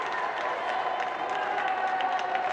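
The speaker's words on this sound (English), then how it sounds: "And those cheers are getting ever louder." A large crowd cheers and applauds steadily at a Tokyo 2020 Paralympic wheelchair tennis singles gold medal match, a dense, continuous roar of voices and clapping that holds at full volume throughout.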